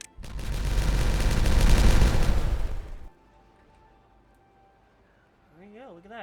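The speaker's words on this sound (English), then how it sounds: "Let's detonate." In the city-building game Timberborn, a loud rumbling detonation roars for about three seconds and then cuts off abruptly, leaving near silence. A faint synthetic warbling tone rises at the very end.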